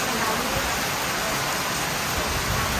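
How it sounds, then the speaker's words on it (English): Steady rain falling on a campsite in Serembu Eco Park, Bau, Sarawak, an even, dense hiss of drops throughout with no talking. "It's raining."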